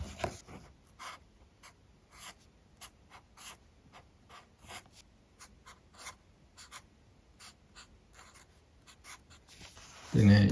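A Sakura Craypas My Name sign pen scratches across paper in a series of short, scratchy strokes with pauses between them, close and clear, before a louder noise at the end.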